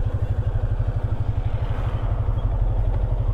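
Motorcycle engines run steadily at idle, a close, rapid low throbbing with a rattling edge that holds at a constant level throughout.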